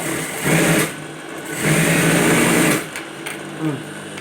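Sewing machine stitching the elastic waistband of a pair of pants, running in two longer bursts with a short final spurt, close and fairly loud with brief pauses between runs.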